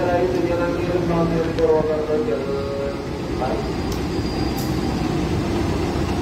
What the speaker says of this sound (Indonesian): kereta api melintas langsung dari jalur tiga dari arah barat